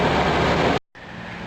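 A steady, broad engine rumble from a vehicle with a newly installed 700R4 transmission runs, cuts out abruptly to silence for a moment, then resumes slightly quieter.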